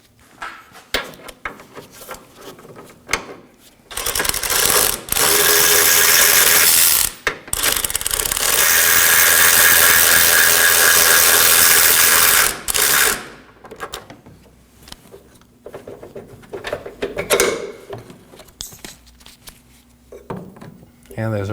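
A nut is unfastened from a lower control arm bolt on a 2013-2019 Nissan Sentra during a front ball joint replacement, with long loud bursts of a power tool separated by brief gaps, followed by quieter clinks and handling noises.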